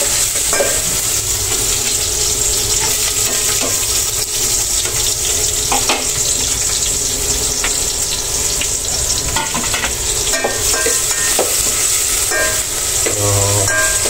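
Dinuguan being stirred in a pan as ginger and onion fry, with steady loud sizzling throughout and scraping stir strokes at intervals.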